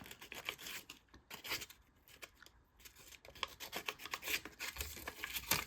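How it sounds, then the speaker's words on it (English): Sandpaper sanding around the edge of a giant watermelon seed, a faint, close scratchy rasping in irregular short strokes with brief pauses. "I'm just gonna kind of go around and sand it around the back."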